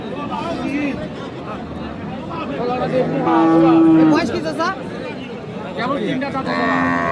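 Cattle low and moo amid a busy crowd at a livestock market in Bangladesh, with people chattering all around and one long, clear moo standing out midway.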